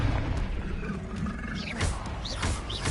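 In Hogwarts Legacy, the Confringo explosion spell is cast with a rushing, roaring burst and a few whooshing swoops over dense game noise, all close and loud, with no voices.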